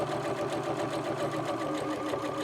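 A sewing machine with an edge stitch foot runs steadily while stitching a tote bag strap, giving a continuous fast, even whirring rattle at close range without pause.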